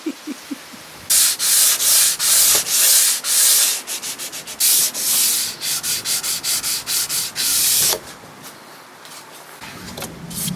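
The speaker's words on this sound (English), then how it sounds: "Right, all sanded that now." Hand sanding on a solid oak side table: rapid scratchy strokes in quick rhythmic bursts, loud and close, starting after a short quiet lead-in and easing off near the end.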